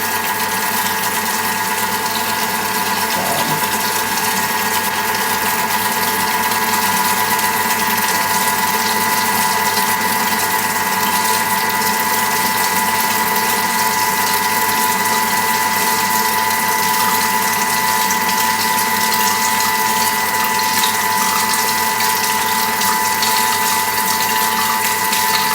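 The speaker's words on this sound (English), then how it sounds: "we're going to very slowly pour the oil onto the mixing bowl lid" A Thermomix runs with a constant steady whir and mechanical hum while oil is slowly trickled through the hole in the mixing bowl lid, loud and unchanging throughout with no voices.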